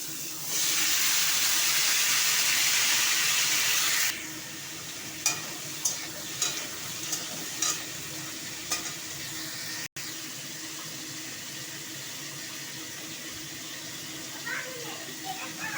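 Papaya pieces dropped into hot oil with nigella and cumin seeds burst into a loud close hiss for a few seconds, then settle to a quieter steady sizzle with a few clinks of a spatula on the pan.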